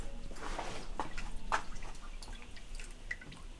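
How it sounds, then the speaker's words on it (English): Fuel drips from the rear tank of a classic Mini Moke being drained, a few sparse, soft drops over a faint background hum. "We're draining the tank at the back at the moment"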